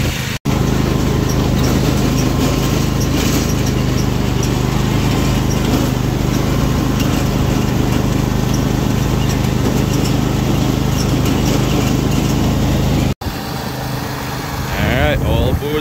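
Small lawn tractor engine running steadily and loud throughout, a continuous droning hum with a brief cut near the start and another near the end, outdoors while hauling trees.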